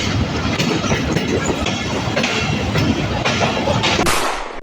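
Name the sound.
Tungipara Express passenger train running on rails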